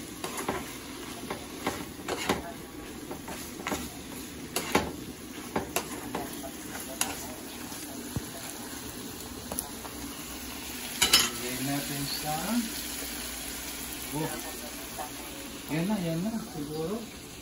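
Ingredients for pinapaitan, a Filipino bitter offal stew, stirred and sautéed in a pan: a quiet steady sizzle with scattered scrapes and ticks of a utensil against the pan, with a voice talking over it.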